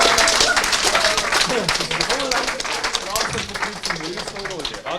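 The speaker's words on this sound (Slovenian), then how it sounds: "Ok, dajmo eno aplavz, ja." Audience at a youth improv theatre show applauds, a loud steady wash of clapping with cheering voices mixed in throughout.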